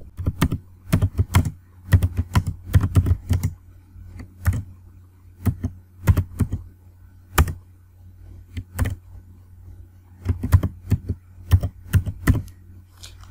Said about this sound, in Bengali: কিবোর্ড থেকে ট্যাব প্রেস করব।